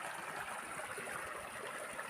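A natural stream of spring water wells up from underground and flows in a constant, even rush of water, steady and close, with nobody speaking.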